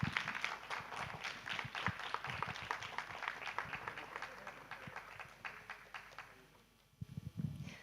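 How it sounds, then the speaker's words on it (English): Applause for speakers at a leaders' summit session, scattered clapping at moderate distance that gradually thins and fades before a final burst near the end. "Please give a big round of applause to everyone who took the stage this time."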